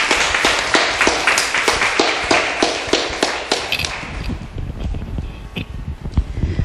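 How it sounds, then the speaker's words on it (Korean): A studio audience at a Korean radio talk show claps for guests coming onstage, a loud, close run of sharp claps that starts crisp and even, then thins into scattered, softer clapping and shuffling. "박수 부탁드립니다."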